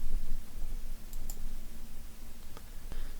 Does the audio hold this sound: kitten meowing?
no